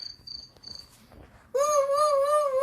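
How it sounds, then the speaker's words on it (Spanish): Synthetic-sounding cricket chirp from an animal sound recognition game, a steady loud tonal trill that starts abruptly after a quieter stretch of faint chirps, with no talking over it. "es un grillo."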